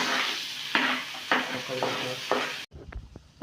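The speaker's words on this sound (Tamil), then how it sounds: "நம்ம கட் பண்ணி வச்சுருக்கிற தக்காளி, வெங்காயம், கேப்சிகம் எல்லாத்தையும் போட்டு நல்லா வணக்கி எடுத்துக்கலாம்." Onion, capsicum and tomato sautéing in a pan, a hissing sizzle with a few sharp scrapes of stirring, ending abruptly into quieter clatter.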